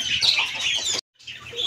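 Pet parrots and a rooster call in shrill, close squawks. A loud burst is followed by a brief silence, then more calls rise again.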